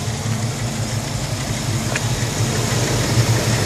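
A Cadillac Fleetwood's Chevrolet LT1 5.7-litre V8 idles steadily nearby, a constant low rumble with no talking.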